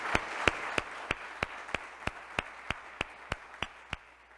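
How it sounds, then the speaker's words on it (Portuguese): A church congregation at a worship service claps in a steady, even rhythm, about three crisp claps per second, fairly faint and with no voices. "eu convidaria vocês para nós darmos ao Senhor Jesus uma grande salva de palmas."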